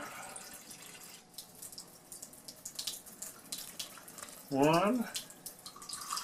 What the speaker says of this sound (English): I'll be using a little bit more water in that.